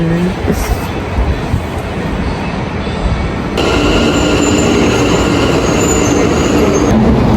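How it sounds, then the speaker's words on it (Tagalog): A high-speed train in Taiwan rumbles steadily through a station, with rail noise growing louder and a continuous high metallic whine joining partway through. "Ito na nga yung high-speed train nila"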